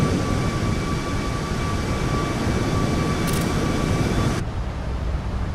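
The engines of a Boeing 737 MAX 8 in Microsoft Flight Simulator 2020 make a loud, steady broadband roar with faint tonal whines. The roar changes abruptly near the end as the simulated sound shifts.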